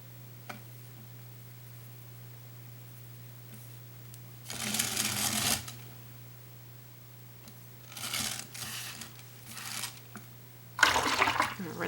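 A paintbrush loaded with acrylic paint is rinsed in a water container, with three bursts of swishing and sloshing separated by quiet pauses over a steady low hum, fairly close.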